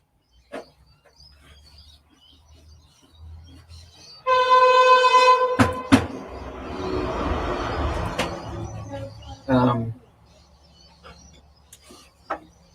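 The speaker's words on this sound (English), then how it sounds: "you hear a train, did you?" A train rumbles past close by, its horn sounding loudly for several seconds over the rolling clatter of wagons, then fading away.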